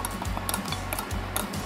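A spoon stirs shortening into a homemade fondant mixture, scraping around the bowl in a steady rhythm of soft swishes and light metallic ticks, close and alone.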